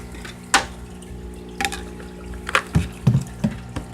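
Water draining through a hose from a fish fry tank, with intermittent close gurgles and soft splashes over a steady low hum.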